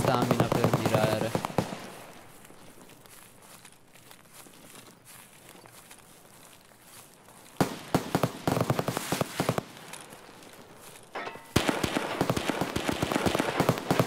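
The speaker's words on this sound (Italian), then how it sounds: "Sparano, sono vicini." Escape From Tarkov gunfire comes in two loud stretches of rapid, crackling shots, separated by a quieter lull in the game's background.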